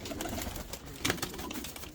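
An Ottoman Hünkari pigeon is let out of its box, giving soft coos and a sudden burst of wing flutter midway, close and fairly quiet.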